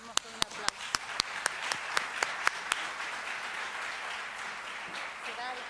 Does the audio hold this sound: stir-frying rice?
no